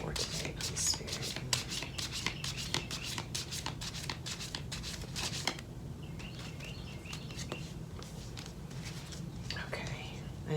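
Tarot cards being shuffled up close, a quick run of crisp riffling flutters and soft snaps, then quieter rustling slides and taps, with a soft voice murmuring faintly in the background.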